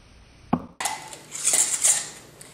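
A lid clinks onto a metal container of boiling water, a sharp knock followed by a clattering settle and a soft hiss of steam, close by in a quiet kitchen.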